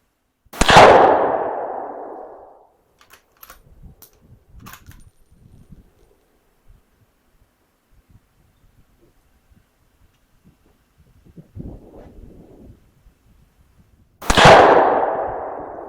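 Two loud, sharp rifle shots from a Savage 110 Trail Hunter chambered in 7mm-08 at a shooting range, firing Hornady Whitetail Interlock ammunition, one at the start and one near the end, with quiet handling noises between.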